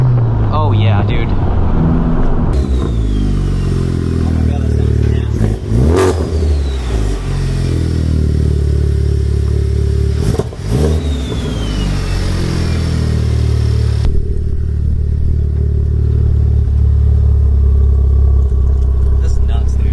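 A Honda Civic Type R with stock internals, making 550 horsepower after a boost leak fix, revs and accelerates hard from close inside the cabin. The engine pitch climbs repeatedly between gear changes, with a sharp whoosh at each shift.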